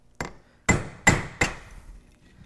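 Four sharp metallic hammer blows on a pin punch, driving rivets out of a Rolls-Royce brake shoe held in a vise. One strike comes alone, then three follow in quicker succession, each close and ringing briefly before fading.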